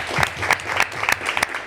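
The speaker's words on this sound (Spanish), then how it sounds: "Un aplauso para las invitadas." Audience applause for the guests at a panel discussion, a steady burst of clapping from a crowd with sharper accents throughout, loud and close, with no talking over it.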